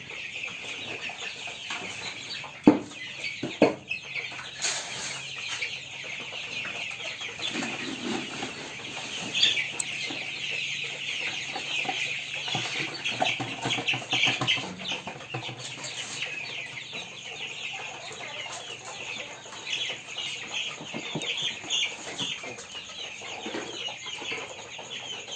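Meat broiler chickens on a poultry farm cluck and chatter steadily in a dense, moderately distant flock, with occasional wing flaps and knocks.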